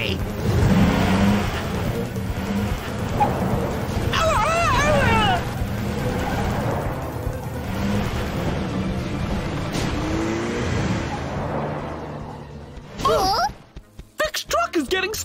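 A cartoon truck's engine revs and strains while stuck in holes, a continuous mid-loud motor drone under excited character voices and squeaky cartoon sound effects, ending in a jumble of short bangs.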